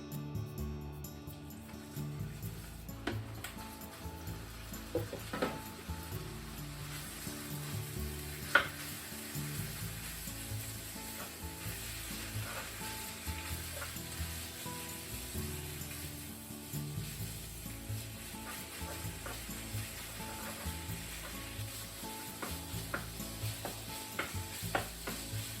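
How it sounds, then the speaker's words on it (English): Pork sizzles in rice oil in a frying pan, a soft continuous crackle broken by intermittent scrapes and clacks of stirring, quiet and close with no talking. "And let's cook the pork first."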